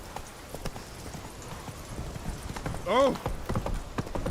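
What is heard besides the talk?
Geralt's horse Roach galloping in The Witcher 3 video game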